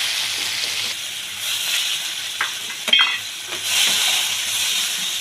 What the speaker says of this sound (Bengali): এই তেলে দেখো একটুখানি গোটা জিরে ফোড়ন দিলাম, পেঁয়াজ কুচি